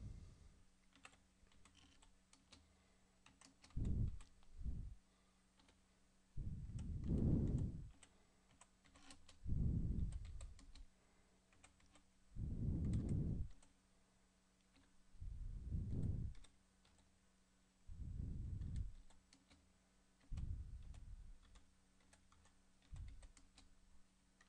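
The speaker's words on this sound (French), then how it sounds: "et je tape mon texte." Keys on a computer keyboard are typed while entering text into a comic speech bubble in GIMP, coming as intermittent bursts of clicks with deep thumping swells between them and no voice.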